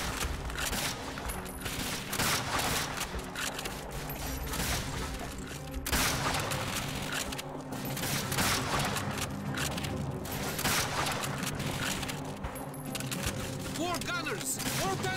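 Enemy machine gunners fire in Call of Duty: Finest Hour during a Soviet factory defense, with sustained rattling automatic gunfire and mechanical clanks throughout, and a voice shouting over the battle.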